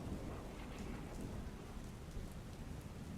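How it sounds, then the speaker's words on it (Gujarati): Heavy monsoon rain pours steadily during a storm in Gujarat, a dense, continuous loud wash with a low rumble of thunder beneath, no voices. "ગુજરાતમાં સાર્વત્રિક વરસાદ, મોટાભાગના પંથકોમાં હળવાથી અતિભારે વરસાદ"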